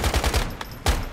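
Bursts of gunfire from a gun in the survival video game Once Human: several rapid, close shots in quick succession, a short pause, then another loud burst.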